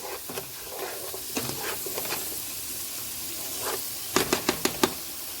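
Onions cooking down in a pan for vegan rasta pasta sizzle softly and steadily, broken by spoon scrapes and a quick run of five sharp taps near the end.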